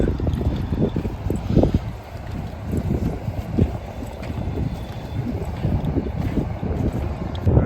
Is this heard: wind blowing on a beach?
yes